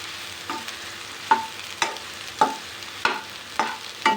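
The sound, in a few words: soybeans roasting in hot oil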